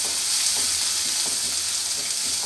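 Two torn dried red chillies sizzling in hot sesame oil over low flame, a loud continuous crackling fry with faint stirring underneath.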